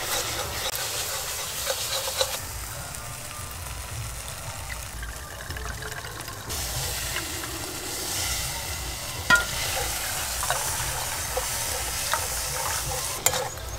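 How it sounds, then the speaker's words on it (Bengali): Spices and ginger paste frying in a pan for a Bengali prawn malai curry, a dense steady sizzle with wet scraping and stirring throughout, close and fairly loud, a few light knocks of the utensil, and no speech. "এবার দেব আদা বাটা, এবার সবকিছু মশলা একসঙ্গে ভালো করে কষে নেব।"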